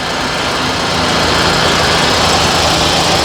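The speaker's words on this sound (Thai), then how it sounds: "นี่ครับเสียงเครื่องยนต์ก็จะประมาณนี้นะครับ" A 2007 Toyota Wish 2.0 engine idles steadily and continuously, with a low rumble and broadband hum, holding constant throughout without revving.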